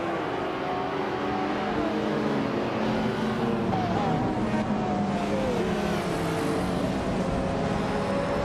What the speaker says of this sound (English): the race has just kicked off at the Autodromo Oscar Galvez Vintage track